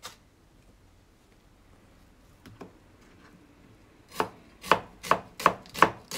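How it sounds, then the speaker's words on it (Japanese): A knife thinly slices a cored onion on a cutting board: a few soft cuts, then a quick, even run of six crisp, close chops, with no talking. "その間に玉ねぎ、 芯を取って薄切りにしていきます。"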